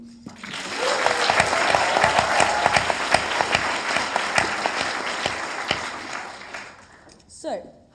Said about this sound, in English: let's hear it for Megan.